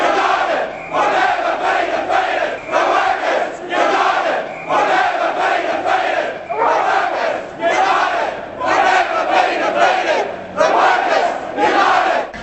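A large union protest crowd chants in unison at a blockade, loud and rhythmic, repeating "We're union and we're proud" in steady waves.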